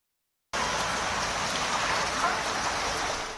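Heavy downpour in Istanbul, a dense steady roar of rain that starts abruptly and stays loud and unbroken, with no voices.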